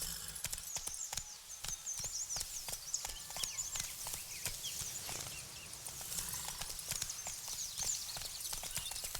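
Hooves of the horse Roach clip-clop in a steady walking rhythm on hard ground in The Witcher 3, close and clear with sharp individual strikes over a quiet ambient background.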